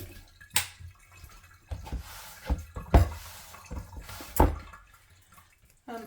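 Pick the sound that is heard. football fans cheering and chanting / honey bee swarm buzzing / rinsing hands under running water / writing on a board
rinsing hands under running water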